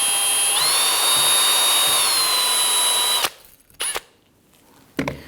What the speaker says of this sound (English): I'm going to use a bore brush and clean this out